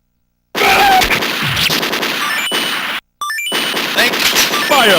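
Rapid gunfire and explosive bursts pour from a Neo Geo arcade machine's game, a loud dense barrage that drops out briefly and resumes, with jingly game sounds in an arcade setting.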